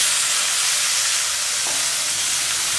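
Onions and tomato sauté in a pan for snake gourd kootu, producing a continuous, even hiss and sizzle with a faint tap partway through.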